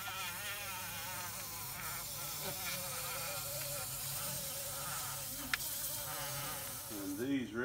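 Bumble bees being collected swarm close around the camera, a loud, continuous, wavering buzz that rises and falls as individual bees pass near.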